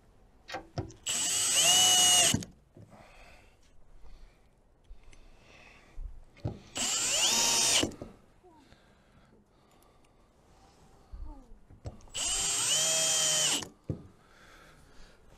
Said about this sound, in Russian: Берем шуруповерт и прикручиваем нержавеющими саморезами